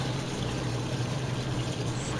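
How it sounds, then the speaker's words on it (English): A waterfall in ARK: Survival Evolved pours in a steady, dense rush of falling water, continuous and close with no talk. "Pink waterfall."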